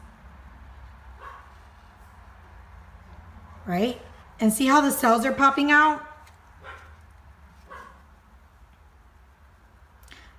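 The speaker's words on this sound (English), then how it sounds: "Sorry if you guys hear my dog." A pet dog barks at people nearby in a short burst of several yips and barks midway, heard fairly clearly while a person speaks before and after over a steady low hum.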